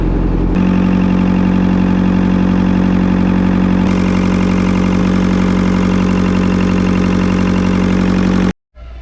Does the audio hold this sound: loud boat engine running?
yes